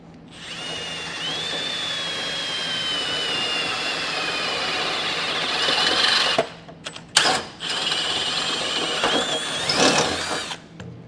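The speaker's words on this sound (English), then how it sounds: "we're going to drill out using a 3/8 drill bit" A power drill fitted with a 3/8 bit bores a hole through a metal Blue Ox base plate on a 2024 Ford Escape, a sustained close whine that briefly cuts out and restarts near the end.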